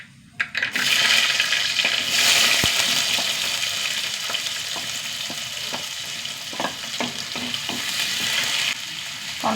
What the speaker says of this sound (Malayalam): കടുക് പൊട്ടി ഇതിലേക്ക് വലിയൊരു സവാള,